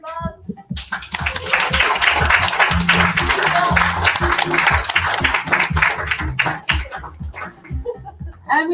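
Audience at an event in Trondheim applauding, dense continuous hand clapping that swells after a short opening and tapers off near the end, with a voice heard at the edges.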